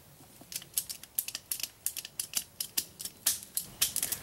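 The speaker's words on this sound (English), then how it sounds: "So you'll want to trim these out of your way." Hand pruners snipping small tree branches and brush outdoors while clearing around a trail camera, a quick series of crisp, close clicks and snips in an uneven rhythm with no talking.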